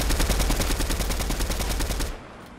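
Rapid automatic gunfire from a very overpowered gun in a trio battle-royale style video game, a dense, loud continuous burst of shots lasting about two seconds before cutting off abruptly.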